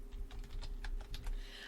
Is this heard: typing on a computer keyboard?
yes